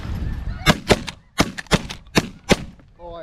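Series of close, loud shotgun blasts fired at snow geese over a small decoy spread, about seven sharp reports in irregular succession, with goose honking faintly in the background.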